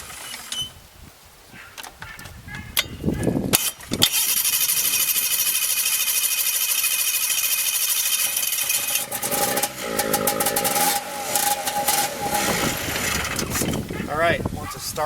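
1990 Ski-Doo Safari snowmobile engine, sitting for eight years, cranking and sputtering as it tries to catch, with loud rough mechanical bursts and uneven revving between pauses.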